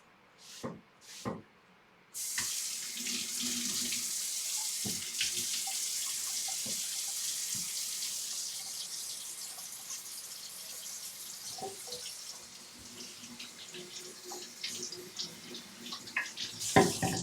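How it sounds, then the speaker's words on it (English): Water runs from a kitchen tap over tomatoes, a steady hissing stream that starts abruptly after a few knocks and continues, with a few clatters near the end. "Rinsing off that"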